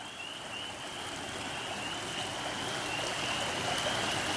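Creek water rushing strongly below a bank at night, a steady full broadband wash of flowing stream sound, continuous and fairly close, with no voices.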